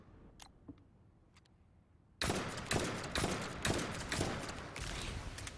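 Loud, rapid gunfire bursts from the Perforator weapon in the video game The First Descendant start suddenly after a couple of seconds of quiet with faint ticks, continuing as dense, repeated shots close up.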